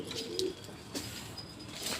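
Pigeons at a loft give soft, low cooing calls, a few brief murmuring phrases close by over a quiet background.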